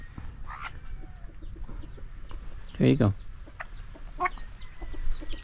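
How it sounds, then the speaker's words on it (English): Chickens clucking around someone gathering fruit, soft scattered clucks with one louder burst near the middle, under brief nearby talk. "this one is also a friendly little chicken"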